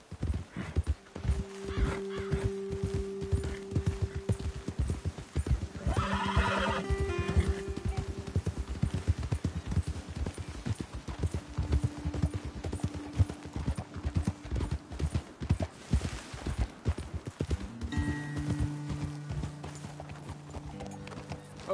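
Horses in Red Dead Redemption clip-clop steadily in a dense rhythmic trot, with several loud drawn-out whinnies and neighs rising above the hoofbeats, close and continuous.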